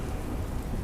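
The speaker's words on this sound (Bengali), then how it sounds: "ঝমঝমিয়ে বৃষ্টি পড়ছে।" Heavy rain pours steadily in a dense, even roar with low rumbling underneath suggesting thunder, part of a night-time storm scene in a Bengali horror audio drama; short and continuous, with no voices.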